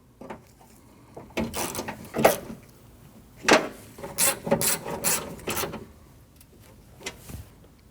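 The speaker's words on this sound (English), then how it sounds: "install your screws. And tighten them by hand." Screws being tightened by hand on a window regulator inside the door of a 2012-2021 Nissan NV2500 van give bursts of ratcheting clicks and scraping, irregular and close, separated by short pauses.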